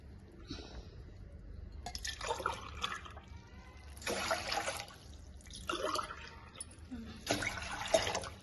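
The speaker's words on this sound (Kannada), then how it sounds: "ಒಂದು ತೆಂಗಿನಕಾಯಿಗೆ 3 ಗ್ಲಾಸ್ ನೀರು ಹಾಕೊಂತೀನಿ" Three glasses of water are poured into a cooking pot for making coconut milk, heard as several separate splashing pours of moderate loudness with short pauses between them.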